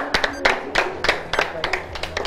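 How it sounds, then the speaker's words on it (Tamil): Scattered hand clapping from a small group at an indoor team game, a few irregular claps at a time with a low hum underneath. "கைதட்டுங்கப்பா, உற்சாகப்படுத்துவா."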